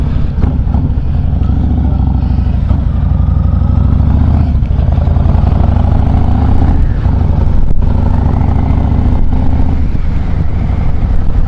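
Yamaha XV1900 Star Raider motorcycle engine opened to full throttle, a loud, steady low rumble that holds strong for the whole stretch with slight shifts in pitch as it pulls, no voices over it.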